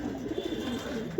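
A female Kaldom tournament flying pigeon at a breeder's loft gives low, soft, rolling coos over a steady background hiss; close and continuous, with no voices.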